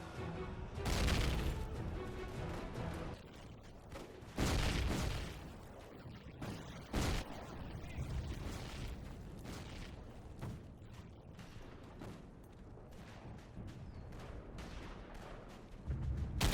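Video game gunfire aimed at enemies on a hill: loud booming shots and bursts come in clusters over a continuous rumbling background, close and heavy, with no talking.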